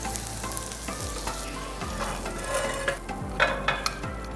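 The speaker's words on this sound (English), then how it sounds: "Keep turning it over and cooking until both sides are crispy and golden brown." A Korean dish frying in a pan until crisp, with a continuous close crackling sizzle and occasional turning and scraping sounds against the pan, no one speaking.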